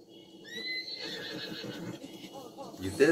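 Horse neighing in the video game Zelda Breath of the Wild, a whinny with rising and falling tones in the middle, heard over game sounds and ambient noise, with people talking alongside it.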